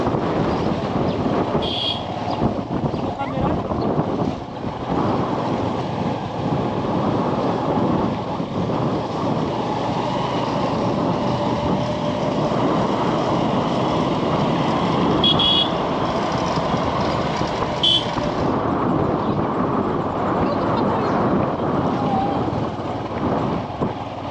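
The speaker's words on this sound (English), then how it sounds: "this is like to take a moto taxi ride to our next point" Moto taxi motorcycle ride through the countryside near Ruhengeri, Rwanda: a constant engine hum heard from the back seat, mixed with heavy wind buffeting on the microphone, steady and close for the whole stretch.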